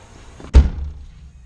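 The door of a Mazda Miata shuts with a single dull, heavy thump, heard from inside the car, with quiet surroundings and no talk.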